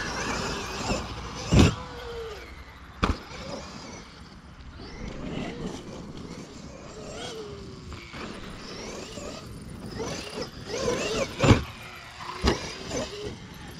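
An X-Maxx RC monster truck runs on throttle with a steady electric motor whine that rises and falls, broken by sharp thumps and clatters from bumps and landings, heard at close to middle distance.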